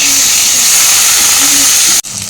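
Chopped tomato hits a hot pan and sizzles with a steady, loud hiss that holds evenly before cutting off abruptly near the end, then resumes more softly.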